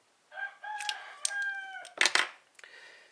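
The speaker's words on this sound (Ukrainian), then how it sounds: "Півень, я тебе з'їм. Ти мені портиш всі відео своїм голосом." A rooster crows nearby, a long drawn-out call with a rising and falling tone, followed by a few rougher squawks.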